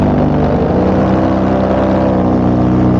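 Limitless paramotor engine driving a larger propeller through a reduction drive in turbulent flight, a loud, close, steady droning buzz with a continuous tonal hum and no break across the clip.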